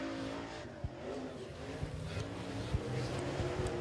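A race car on a qualifying run at Duck River Raceway roars around the track at a distance, its engine note rising and falling with faint impacts, in a dirt-track racing setting.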